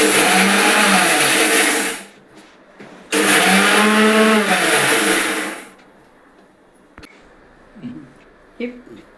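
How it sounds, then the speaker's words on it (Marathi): A mixer grinder grinding papad for chutney whirs loudly in two short bursts separated by a pause, followed by quiet clinks and handling noises. "मिक्सरमध्ये मी एकच वेळेला असं फिरवून घेतलं"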